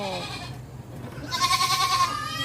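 Pygmy goat on a farm gives a clear, close bleat in the latter half, a wavering tonal cry over steady outdoor background noise.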